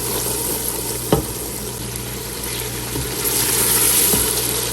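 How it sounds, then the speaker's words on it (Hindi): Spices fry in tomato juice in a pan with a steady close sizzle, broken by a few scraping stirs, the bubbling growing slightly louder toward the end, with no voices. "अब हम करेंगे अच्छे से मसालों की भुनाई।"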